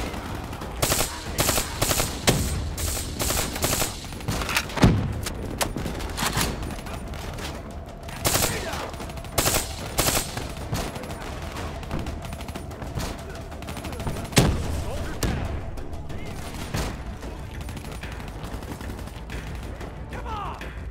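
Gunfire in Call of Duty Black Ops III, loud and repeated, with rapid automatic bursts and single sharp shots scattered through the whole stretch, mixed with other game effects and occasional voices.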